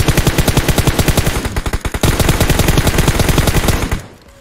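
Rapid automatic gunfire in PUBG Mobile, a loud, close, steady stream of shots in tight rhythm with a brief lull near the middle, then a second sustained burst that cuts off and fades.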